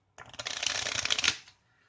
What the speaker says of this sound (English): When you take half the deck to shuffle the deck